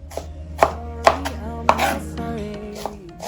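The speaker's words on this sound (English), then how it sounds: "Someone is chopping onions." A knife chops onions on a cutting board in a few sharp, uneven strokes, close and clear over a steady low hum.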